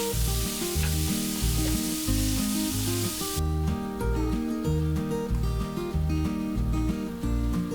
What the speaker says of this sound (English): Then add 500 grams mince beef and fry the beef for about 4 to 5 minutes.